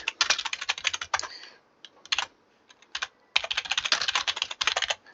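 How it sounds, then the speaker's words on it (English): Computer keyboard typing in quick bursts of rapid, close clicking keystrokes, with short pauses and a few scattered single taps between them; no voices. "Apologies for the typing."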